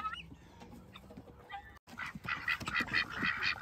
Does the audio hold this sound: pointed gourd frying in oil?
no